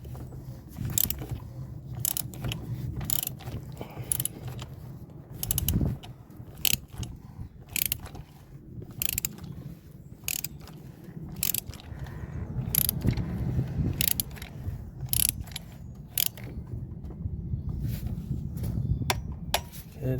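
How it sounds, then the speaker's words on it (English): Torque wrench being fitted and worked on a Vauxhall Corsa sump drain plug during an oil change, quiet metallic clicks, ratcheting and tool handling in irregular bursts, close by, with no talk. "Let's get this torque wrench on."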